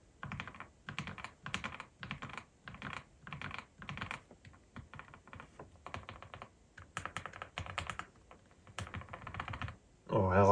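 Fast, steady typing on a full QWERTY mechanical keyboard with filmed switches: close, dense clacky keystrokes in quick bursts, with a brief louder noise at the end.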